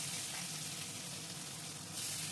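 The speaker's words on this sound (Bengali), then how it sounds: "এদিকে এখন পমফ্রেট মাছগুলো ফ্রাই করা হচ্ছে" Pomfret fish frying in a pan in a kitchen, giving a steady, close, continuous sizzle that swells slightly near the end, with no voices.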